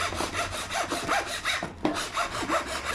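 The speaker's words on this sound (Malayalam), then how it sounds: "ബോക്സിൻ്റെ മിഡിൽ പോർഷനായിട്ട് രണ്ട് പാർട്ടായിട്ട് കട്ട് ചെയ്തെടുക്കാം" A hand saw cuts through a thin, lightweight box, giving a steady back-and-forth rasp of about a dozen even strokes, close and clear, with a brief pause near the middle.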